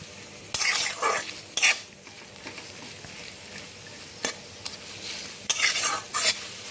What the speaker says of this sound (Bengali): এখন চুলোর আঁচটাকে জোর দিয়ে পেঁয়াজটাকে আমি ভেজে নেব।